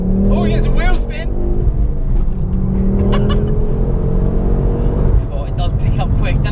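A tuned 320bhp Ford Focus ST pulls hard under acceleration, its engine drone rising through the revs, close and loud from inside the car, with occupants talking over it.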